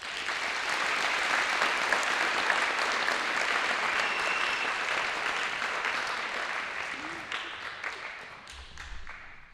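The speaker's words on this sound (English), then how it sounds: "let's give Abby a round of applause" An audience at a high school signing day ceremony gives a player a sustained round of applause, dense clapping that holds steady and then tapers off near the end.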